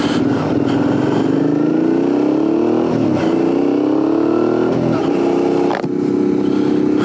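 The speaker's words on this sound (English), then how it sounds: "How nice is that exhaust? It is sounding sensational." A Suzuki V-Strom 650 motorcycle fitted with a Delkevic aftermarket exhaust rides along, its engine droning loudly and continuously, the pitch climbing through gears with brief dips at shifts, mixed with wind rush.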